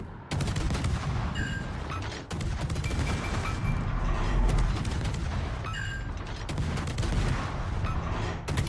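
Naval guns boom and rumble in World of Warships as ships unload salvos on a Mogami cruiser, with repeated heavy blasts and crackling fire filling the battle, loud and sustained.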